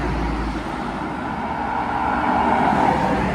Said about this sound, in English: I'm at the bus stop next to the road, so it's probably pretty loud.